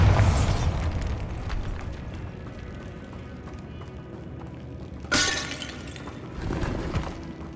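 A Bombarda blasting spell in the Hogwarts Legacy video game sets off a sharp explosive crash with shattering debris, followed by a fading rumble and a second burst a few seconds later.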